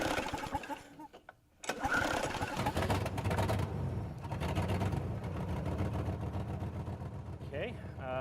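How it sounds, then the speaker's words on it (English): A staged car engine sound effect at a live sketch comedy show: an engine starts and settles into a steady running drone, with voices talking over it. "All right, so go ahead and turn on the engine."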